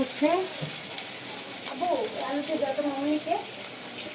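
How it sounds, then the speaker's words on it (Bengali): Onions frying in a pan with oil in a home kitchen while eggs and small potatoes are cooked, a steady close hiss and crackle throughout, with someone talking over it. "এই যে আমি এখন রান্না করবো, এই যে পেঁয়াজ দিয়ে দিচ্ছি"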